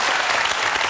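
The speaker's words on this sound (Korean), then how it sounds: "따뜻한 위로의 박수 부탁드립니다." Studio audience applause on a Korean TV quiz show, recorded in 2006: a short, dense, even wash of clapping from many people, heard alone.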